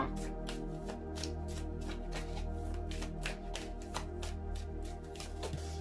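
Cards being shuffled steadily over a low background hum, with repeated crisp riffling bursts at a quick, even rhythm.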